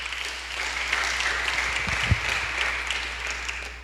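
A church congregation at a midweek service applauds. The clapping is dense and sustained, with a steady rumble beneath it, and a few louder claps stand out near the middle.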